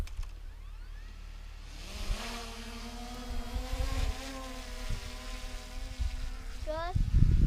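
Camera drone lifting off on Dartmoor, its rotors spinning up into a rising high-pitched whine that settles into a steady buzz, with brief talk and wind bumps nearby.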